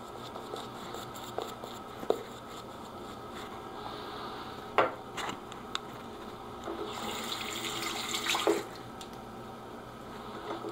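Tap water trickling onto a shaving brush at a sink, a faint steady run with a few soft drips and clicks, growing slightly louder near the end.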